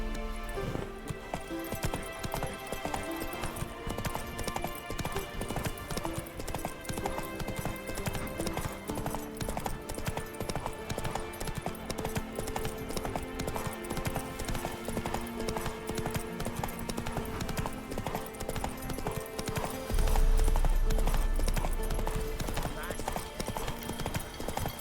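Horse hooves gallop in a constant fast clip-clop throughout a scene from The Witcher 3, loud and close, with game music and sound effects layered over the hoofbeats.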